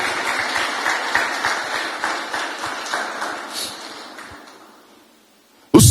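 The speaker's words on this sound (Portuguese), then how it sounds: "Dê uma salva de palmas ao Espírito Santo de Deus." A church congregation claps together in a round of applause for the Holy Spirit, dense and steady at first, then thinning and fading to near silence before a sharp burst at the end.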